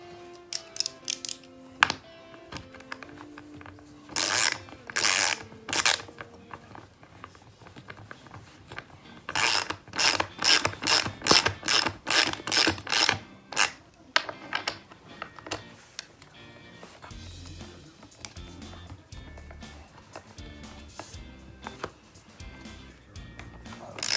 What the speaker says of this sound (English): we're gonna use a 7/16 socket to tighten this down